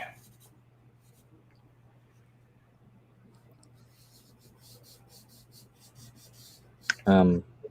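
Pencil or marker strokes on paper at large scale make a steady soft scratching and rubbing that runs throughout, with a brief louder burst near the end.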